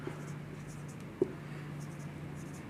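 Pen scratching faintly on paper as a class 10 maths solution about odd integers is written out, a quiet, steady writing sound with a single soft tap partway through.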